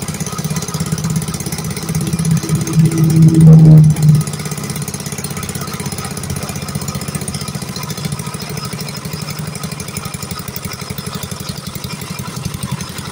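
A Yamaha Mio Sporty scooter with a fault that makes it stall without a battery runs at a steady, rattly idle throughout, briefly revving a little higher midway before settling back to idle.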